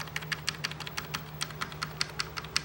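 Directional keys on a Commodore 128D keyboard are pressed in a quick irregular series of crisp, close plastic clicks, about a dozen taps over a low steady hum, with no talking.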